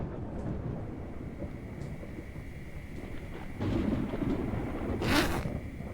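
Thunderstorm in the video game Project Zomboid: steady rain hiss with a low rumble that swells near the middle and a sharp bright crack of thunder toward the end, no voices.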